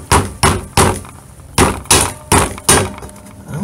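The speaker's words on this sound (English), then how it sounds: "we're gonna poke a hole with this" Sharp metallic strikes ring out as a hole is punched into a can while building a one-string canjo, about eight loud, close hits spaced unevenly, each followed by a short decay.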